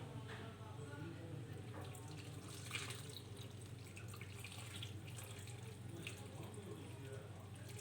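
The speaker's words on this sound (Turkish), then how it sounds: "Bu salçalı suyumuzu da yemeğimize ekliyoruz." Tomato paste water added to an eggplant kebab dish in a home kitchen, a steady close pouring and sizzling wash of liquid with a constant low hum underneath, lasting throughout at moderate level.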